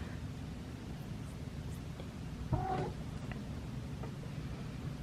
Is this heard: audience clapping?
no